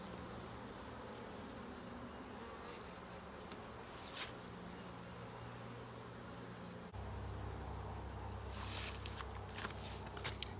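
Honey bees buzz steadily at an opened hive during an early-spring inspection, a dense continuous drone close to the listener that thickens and grows louder partway through, with occasional light handling noises.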